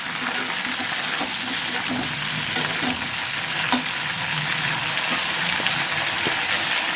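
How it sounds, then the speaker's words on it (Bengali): Green beans sizzling steadily in oil in a pan, a dense continuous frying hiss with occasional soft stirring clicks, close and fairly loud with no talk. "এই কারণে আমি আলাদা করে ভেজে নেব"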